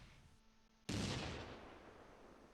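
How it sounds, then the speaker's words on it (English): A single loud mortar blast from the wartime strategy game Close Combat II erupts abruptly after a quiet stretch, then fades into a long rumbling decay, with no voices present. "the mortar team is just targeting them"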